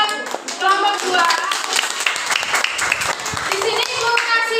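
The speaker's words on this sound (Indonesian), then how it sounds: "kita tepuk tangan dulu buat kelompok 2." Classroom of children clapping hands together as applause for a group, a dense continuous patter of many hands filling the room with voices mixed in.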